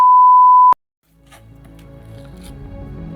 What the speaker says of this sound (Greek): εδώ θα βάλουμε μπιπ